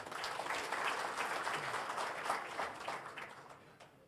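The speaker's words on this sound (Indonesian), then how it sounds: "Tepuk tangan untuk semuanya." A small gathering at a leadership event gives a short burst of applause, a fairly faint patter of scattered clapping that thins out toward the end.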